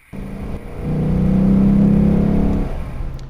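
A Lexus IS-F V8 revs up as its secondary intake valve opens around 3,000 RPM, a deep, throaty growl that builds and swells to a loud peak, then eases off, close and alone.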